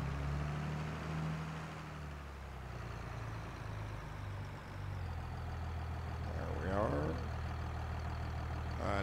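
Old International tractor engine in Farming Simulator 22 idles with a steady low rumble throughout, holding an even loudness, and a brief higher rattling sweep comes in near the end.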